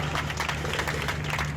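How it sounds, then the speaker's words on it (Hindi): Applause and crowd noise at a Women's Day event in a village in Uttar Pradesh, a steady, dense wash of clapping with no breaks across the whole short stretch, fairly loud and even. "तालियां बजती रहनी चाहिए"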